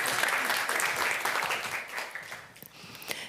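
An audience at a panel debate applauds steadily, a dense wash of clapping that holds strong and then gradually thins out toward the end.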